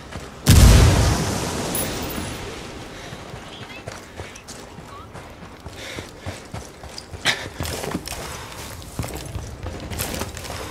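A frag grenade detonates in Ghost Recon Wildlands: one loud, booming blast right at the start, followed by a long rumbling tail and scattered clattering debris, with faint voices and game noise.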